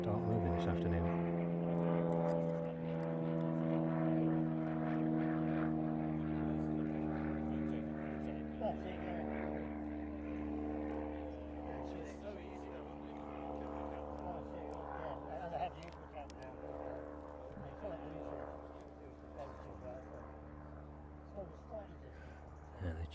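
Large aircraft at East Midlands Airport moving out from the apron, a steady droning engine hum with strong tonal layers that holds throughout at moderate loudness, with faint talk over it.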